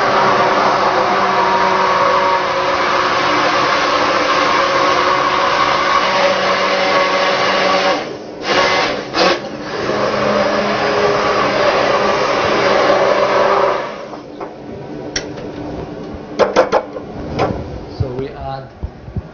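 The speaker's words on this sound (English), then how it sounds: "with the mashing blender do sort of puree" A loud, steady motorized whir of an immersion blender pureeing beans runs continuously, then stops; clattering and handling noises follow near the end.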